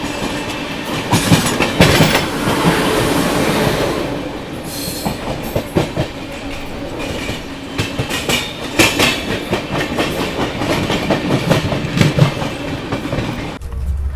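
The Mumbai Rajdhani Express overtakes the Paschim Express near Hazrat Nizamuddin, heard from inside the coach as a continuous rumbling roar with sharp clickety-clack beats from the wheels.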